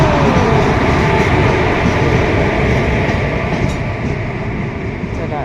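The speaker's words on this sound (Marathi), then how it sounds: "चला फायनली आपली ट्रेन आलेली आहे" A train, the Mahalaxmi Express, rumbles steadily and loudly close by as it arrives at a station, broadband mechanical roar with rattling carriages, fading slightly toward the end.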